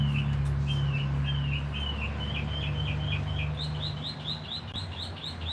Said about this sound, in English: Just listen to that bird.